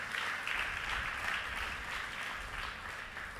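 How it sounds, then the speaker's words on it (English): An audience applauds at a literary prize ceremony, a steady dense wash of clapping heard at a moderate distance throughout, with no voices over it. "Please applaud Selvi Sachidanandam's work"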